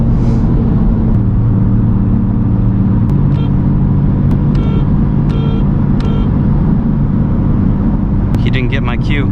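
Engine of a modified 9th-generation car cruising in 6th gear near 3,500 RPM at highway speed, a steady loud droning rumble with road noise filling the cabin and faint chirps over it.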